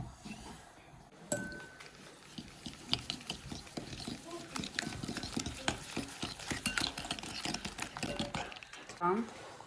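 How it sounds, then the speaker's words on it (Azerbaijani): A whisk clatters against a bowl as eggs and sugar are mixed, a close, steady run of quick clinks and scrapes in a home kitchen, with someone talking over it. "Birinci mən qarışdırıram yumurta və şeker tozu."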